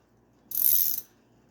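A used Craftsman I-Beam ratchet wrench being turned back, giving one short, bright burst of fast clicking of about half a second, close and alone in an otherwise quiet space.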